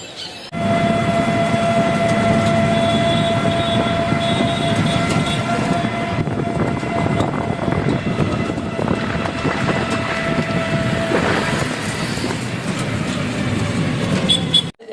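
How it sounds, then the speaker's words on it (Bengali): A train rumbles past at Bardhaman railway station in West Bengal, a loud, sustained roar of wheels and carriages lasting throughout, with steady whistling tones over the low din before it fades at the end. "এই ট্রেন থেকে নামলাম, স্টেশন বর্ধমান স্টেশনে রয়েছি।"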